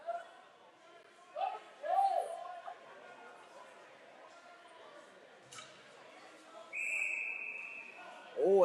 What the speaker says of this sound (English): No, he just blew the whistle.